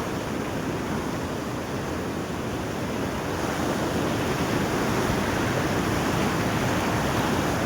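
A Himalayan mountain river rushes nearby on its way toward a power house, a loud, steady broadband roar of fast water that never lets up, with some wind buffeting the microphone.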